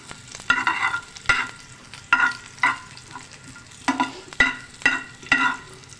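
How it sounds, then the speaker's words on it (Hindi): A small chopped onion fries in a little oil in a pan, a steady soft sizzle broken by regular scraping stirs roughly every half second, with no voices. "सबसे पहले जो है ना 1 प्याज छोटी लेके और थोड़े से ऑयल में जो है उसे फ्राई करने रख दिया"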